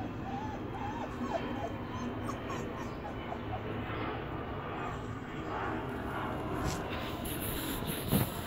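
Puppies in a yard whimper and yip in thin, high cries scattered across a quiet outdoor background, with a plane droning faintly overhead.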